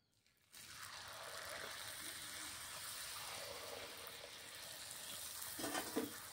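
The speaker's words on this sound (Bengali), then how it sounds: "ফুচকা তো আপনারা জানেন একটু লাল লাল করেই কিন্তু ভাজতে হয়" Fuchka puris deep-fry in hot oil with a steady, close crackling sizzle that starts abruptly and runs on evenly, a few louder bubbling bursts rising near the end.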